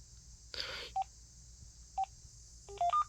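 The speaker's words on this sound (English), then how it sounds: "Well, turn the key tone back on." Key tones from button presses on a DECT 6 cordless phone: short, clean electronic beeps, single presses near one and two seconds and then a quick run of three or four beeps, each alone over a quiet background with a soft rustle.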